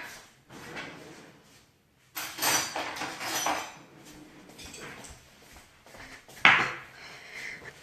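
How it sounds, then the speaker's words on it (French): A kitchen drawer is pulled open and pushed shut while cutlery rattles and clinks as someone fetches a knife. Several clattering bursts come up close, with quiet gaps between them. "Je vais chercher un couteau."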